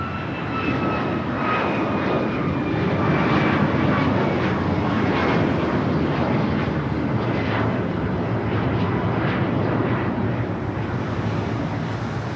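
An airliner takes off from runway 25 Right at Los Angeles International Airport, its jet engines a continuous, loud, broad roar that holds steady and slightly buffeted by wind noise throughout.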